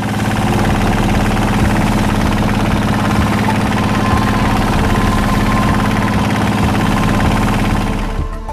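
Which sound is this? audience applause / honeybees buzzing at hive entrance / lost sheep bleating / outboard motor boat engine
outboard motor boat engine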